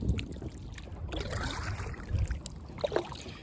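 Wooden Wood Duck 12 kayak paddled on a small lake, with soft, close water swishes and trickles from the paddle strokes under light wind, fairly quiet throughout.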